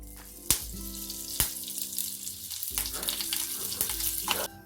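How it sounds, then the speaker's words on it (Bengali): Curry leaves crackling in hot oil in a pan after dried red chillies, a loud close sizzle with sharp pops at the start and bursts of spattering throughout, no speech over it. "কারি পাতাটাও ভেজে নিলাম"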